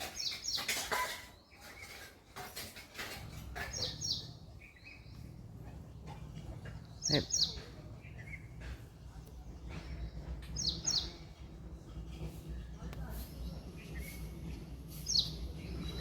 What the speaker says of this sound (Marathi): हे असे छोटे छोटे पक्षी येतात